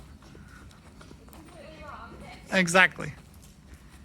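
Hooves of a horse in riding training clip-clop softly in the background as a person speaks briefly nearby.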